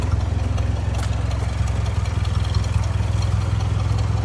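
A 1955 Ford 660 tractor engine idling after a cold start, a steady low chugging throb with even rhythm, close and loud throughout, with no voices.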